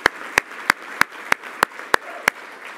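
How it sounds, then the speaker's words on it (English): Slow, evenly spaced claps, about eight sharp single strikes close by over a faint room background, following a call for applause for a senator at a national service awards event. "Please give Senator Blunt a roaring round of applause"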